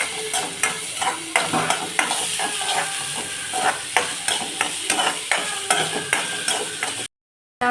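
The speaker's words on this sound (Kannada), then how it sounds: "ಈಗ ಈರುಳ್ಳಿನ ಚೆನ್ನಾಗಿ ಫ್ರೈ ಮಾಡ್ಕೊತಾ ಇದ್ದೀವಿ" Onions frying in a pan, with brisk, regular stirring scrapes of a spatula over a constant hissing sizzle, close and fairly loud, ending in a sudden brief silence.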